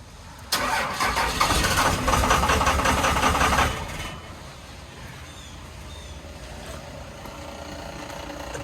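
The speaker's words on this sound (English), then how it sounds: "The pump is running." On a 24-valve Cummins truck, a sudden loud engine-like roar kicks in and runs for about three seconds, then drops to a softer steady hum that continues to the end, with no voices.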